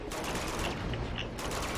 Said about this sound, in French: essaye de tirer sans viser. Tire plus vite et ça le touche à chaque fois presque de toute façon